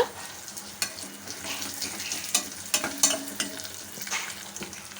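Chana dal, dried red chillies and curry leaves crackle and sizzle in hot oil in a pan, with a steady frying hiss broken by sharp scraping strokes of a spoon stirring them, fairly close and with no voices.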